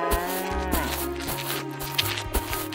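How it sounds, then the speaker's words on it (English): In an animal park video game, a cow lets out a low, drawn-out moo with layered, wavering tones, clear and fairly close over quiet game ambience. "Hey, look, it's a cow."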